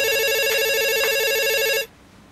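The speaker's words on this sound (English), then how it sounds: "I'm getting a phone call." Telephone ringing loud and close with an incoming call, a buzzy electronic trill with two brief pulses before it cuts off abruptly, leaving near silence.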